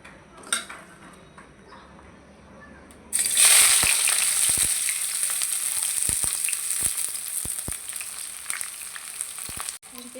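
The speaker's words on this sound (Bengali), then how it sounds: "পেঁয়াজটা ভালো করে ভেজে নিব।" Onions dropped into hot oil in a pan burst into a loud, bright sizzle after a quiet start, then keep frying steadily while a utensil clinks and scrapes against the pan at intervals.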